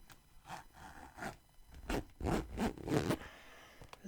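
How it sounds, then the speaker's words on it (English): A zipper is pulled back and forth several times in quick, rasping strokes, close and fairly quiet. "a zipper."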